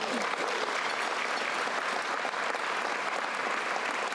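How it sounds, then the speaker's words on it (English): A large audience applauds throughout, warmly and without pause, to congratulate a judge on her presidency of the Illinois Judges Association at a bar association annual meeting. The clapping is dense and even from start to finish, with no talk above it. "let's give a big round of applause and congratulations to Justice Elizabeth Rochford on her presidency of the Illinois Judges Association"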